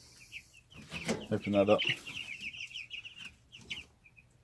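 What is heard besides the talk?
day-old meat chicks chirping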